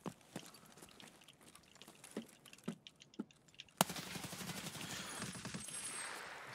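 RPK light machine gun fire in Escape From Tarkov on the Customs map, with sharp shots at first, a few spaced reports, then a loud crack followed by a dense, sustained burst of rapid fire and reverberant noise.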